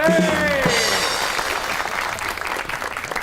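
A studio audience bursts into applause for a guest's entrance on a Pakistani comedy talk show, a brief, dense clatter of clapping that opens over a host's voice and then fades.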